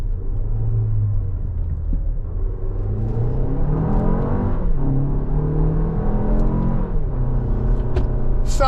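A 2025 Toyota Grand Highlander XLE AWD with an 8-speed automatic, driven in manual mode, downshifts and accelerates. Engine rumble rises and falls through gear changes under steady road and cabin noise, without speech.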